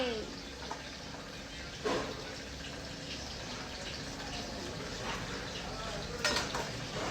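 Manathakkali greens going into a cooking pot for sothi, soft rustling and clinks of utensils against the pot over a steady background wash, with quiet kitchen noise throughout.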